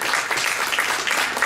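Audience clapping at a festival, a thick, continuous patter of many hands held close and fairly loud for the whole brief moment.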